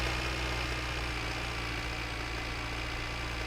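Steady car engine idle in the video game My Winter Car, a continuous low rumble with a constant drone that holds unchanged and alone throughout, fairly loud and close.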